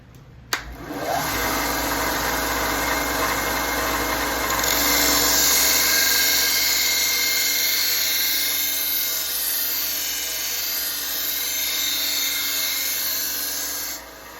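A knife is ground on an electric belt sander: a steady, loud abrasive whir with a high grinding hiss that swells midway and holds continuously for about fourteen seconds, without speech.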